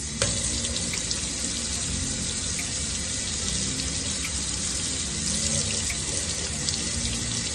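Hot water runs from a tap over a glass bottle in a sink, a loud steady splashing hiss that continues without pause, close by, with no talking.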